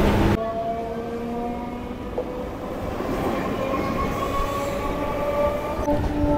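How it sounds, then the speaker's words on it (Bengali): A Canning local train, the first 5:45 service out of Sealdah, rolls along steadily with a continuous rumble and high metallic wheel tones, loud and close throughout with no talking. "একদম পারফেক্ট টাইমে আমাদের ক্যানিং লোকাল ছেড়ে দিয়েছে।"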